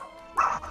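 Small dogs yip and bark in a short burst in the background, a brief cluster of sharp yaps during a gaming session.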